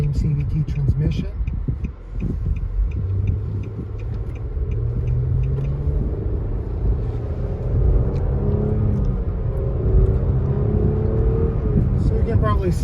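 A 2022 Nissan SUV with a CVT transmission accelerates smoothly, its low engine rumble and drone rising gradually under a person talking inside the cabin.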